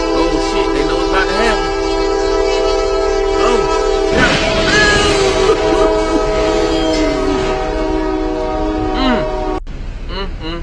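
Train at a railroad crossing blasting a loud sustained multi-tone horn while passing close by, with people exclaiming over it.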